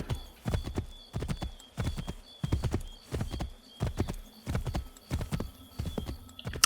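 Horse hooves clip-clop in a steady walking rhythm in Assassin's Creed III, a regular series of close, crisp strikes repeating throughout.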